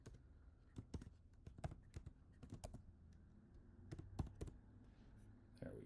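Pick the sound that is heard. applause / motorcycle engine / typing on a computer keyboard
typing on a computer keyboard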